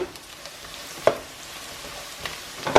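Onion and yellow corn tortillas fry in a pan with a soft, steady sizzle, broken by a few sharper crackles and stirring scrapes close by.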